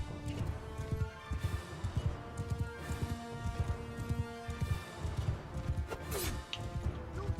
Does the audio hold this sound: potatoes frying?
no